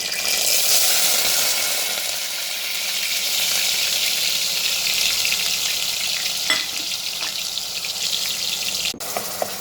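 A ground onion paste fries in a pan with a loud, continuous sizzle and crackle, and a couple of light clinks near the end.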